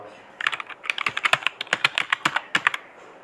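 Quick, close keystrokes clatter on a computer keyboard in an uneven rapid rhythm, about two dozen taps over a few seconds.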